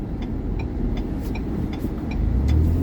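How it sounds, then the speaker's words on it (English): A 2021 Ford Bronco drives along with a steady, close road and engine rumble that swells slightly near the end as it accelerates, and no voices are heard. "This Bronco accelerates, I give it that."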